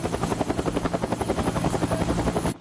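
A helicopter close by gives a loud, steady, rhythmic rotor chop with a constant engine whine, then cuts off abruptly at the end.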